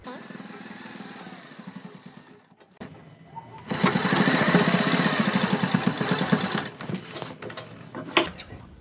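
A sewing machine runs steadily, stitching double-strip piping along both sides of a kurti neckline. A dense, continuous whir begins after some talk and holds for several seconds before slowing.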